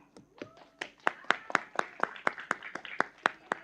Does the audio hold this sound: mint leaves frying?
no